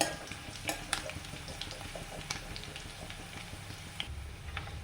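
Boiled potato and onion fry in a pan of masala with green chilli and ginger, a steady soft sizzle under repeated spoon scrapes and light knocks against the pan, close and fairly quiet.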